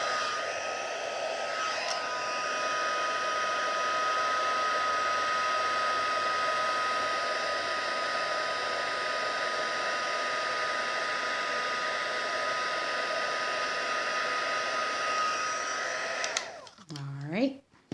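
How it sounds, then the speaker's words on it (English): A heat gun blows hot air over a Stampin' Up stamped card in a steady, loud whirring roar that holds for about sixteen seconds before cutting off with a falling whine. "So I will take my heat gun again."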